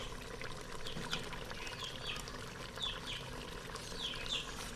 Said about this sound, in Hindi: हम इसमें 1 कप घी डालेंगे